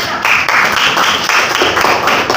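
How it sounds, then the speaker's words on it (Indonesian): A group of listeners applauds after a group presentation in a classroom setting, with loud, steady clapping that pulses in a loose rhythm throughout the short stretch. "Oke, berikan tepuk tangan."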